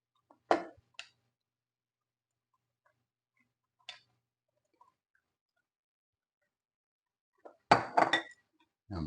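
A utensil stirs an enchilada sauce mixture in a dish, giving a few sparse, sharp clinks with long quiet gaps between them.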